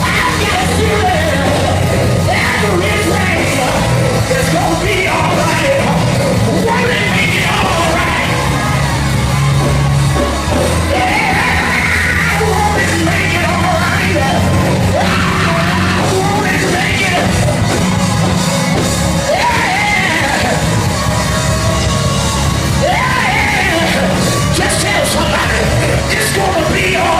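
Church congregation shouting and yelling during a lively service, a loud dense crowd roar with whoops rising and falling continuously over music-like low hum for the whole stretch.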